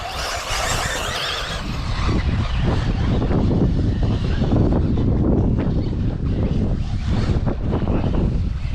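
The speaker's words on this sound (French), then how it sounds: "Oh, le vent qu'il y a, ah," Strong outdoor wind buffets and roars across the microphone in a cold gust, a loud continuous rush with rumbling low-end surges, no talking.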